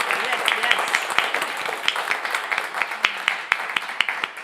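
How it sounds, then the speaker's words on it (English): Audience applause for Raquel & The Wildflowers at a live WDVX Blue Plate Special show, scattered clapping with distinct individual claps rising above a lively crowd murmur. "How about we get one more round of applause for Raquel"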